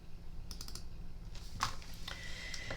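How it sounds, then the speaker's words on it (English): A computer keyboard is shifted out of the way on a crafting desk, giving a few quiet, scattered plastic clicks and clatters at close range. "I'm just going to move my keyboard out of the way."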